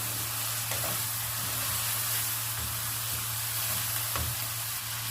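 Mutton liver fries in a pan with a continuous loud sizzle and occasional stirring scrapes, heard alone without talk, under a low steady hum.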